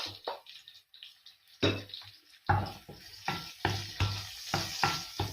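Chopped onions hit a hot pan and sizzle, with a spatula stirring them in repeated scraping bursts that come roughly every half second after a quiet start.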